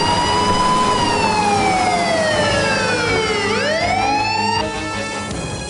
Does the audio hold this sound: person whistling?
no